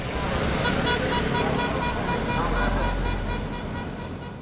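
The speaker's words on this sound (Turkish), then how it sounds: "yoldan geçen araçlar korna çalarak gruba destek verdi" Road traffic rolls past nearby with a steady rumble, and a few car horns toot faintly within the passing engine noise.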